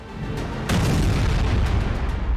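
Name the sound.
bomb explosion in news footage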